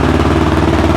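A freshly rebuilt Yamaha YFZ450R ATV engine idling right after its first start, a loud, close, steady mid-pitched throb with an even pulsing rhythm.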